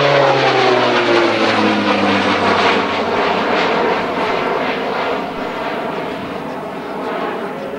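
An Air New Zealand Beech 1900D turboprop races down the runway with gear and flaps up, its loud propeller drone and engine whine sweeping downward in pitch as it passes close by, then fading slightly.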